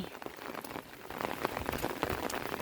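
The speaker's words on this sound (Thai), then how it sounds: "ฝนตกแบบนี้นะ" Heavy rain falls steadily in the countryside, a dense, continuous hiss of drops pattering on surfaces with no pauses, loud and near.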